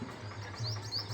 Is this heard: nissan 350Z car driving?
no